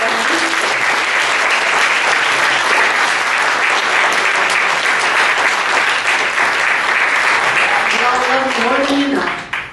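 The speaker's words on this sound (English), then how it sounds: "Let's have another round of applause for Matt Dillahunty." Loud, sustained applause from a live audience at an evening event, a dense steady roar of clapping for the full duration, with a few voices briefly audible near the end as it tapers off.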